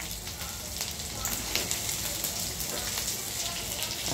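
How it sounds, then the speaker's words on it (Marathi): Bangda mackerel fish with green chilies frying in a pan over low heat, a dense, steady sizzle and crackle that fills the whole stretch, close and fairly loud with no speech. "तर ह्याच्याबरोबर आपल्या माशावर आपली मिरची पण छानपैकी तळली जाईल."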